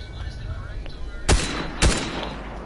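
Gunfire in a video game aimed at other players, two sharp, loud shots about half a second apart over a low background murmur.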